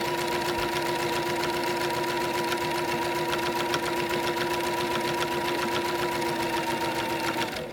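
A sewing machine top stitches a lanyard in a steady, rapid mechanical whir with a fast even needle clatter and a constant motor hum, running unbroken and fairly close with no talk.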